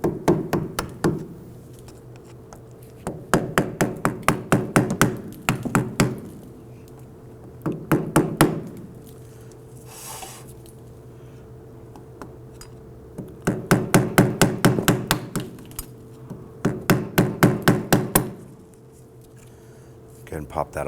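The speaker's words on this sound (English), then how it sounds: "I'm going to get our screwdriver on here and just kind of gently tap." A screwdriver is tapped gently to pry off the rear hub cap on a 2008-2011 Ford Focus, heard as repeated bursts of quick, close metallic knocks in rhythmic clusters with short pauses between them.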